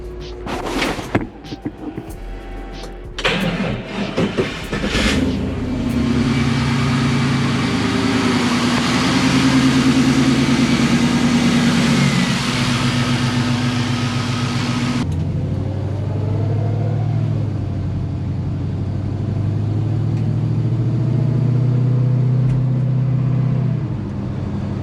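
An LS-swapped Chevrolet Nova with a weak battery cranks briefly, fires up, then settles into a loud, steady, rumbling idle that carries on for about twenty seconds, with no talk over it.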